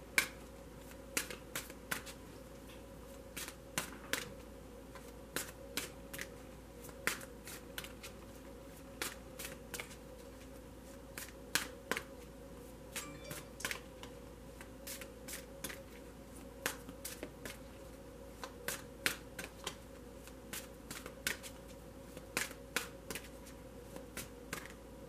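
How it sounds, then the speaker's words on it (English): Tarot cards are shuffled by hand in a quiet room, a series of sharp riffling snaps and soft slides recurring irregularly across the whole stretch, close and crisp. "Please bear with me as I shuffle the cards."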